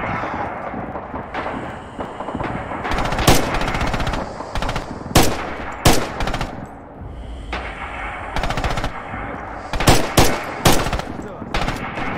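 Rapid machine gun bursts and scattered gunshots ring out in a Red Orchestra 2 battle, the bursts loud and repeated in clusters throughout, with a steady din of combat underneath.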